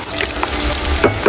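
Onion hitting garlic already browning in hot olive oil, a steady loud sizzle with a few stirring scrapes over its brief length.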